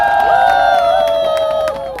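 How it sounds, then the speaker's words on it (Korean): A crowd at an outdoor Korean protest rally claps and cheers to welcome the next speaker. The applause is loud and continuous beneath sustained tonal sound, then eases slightly near the end. "박수로 모시도록 하겠습니다."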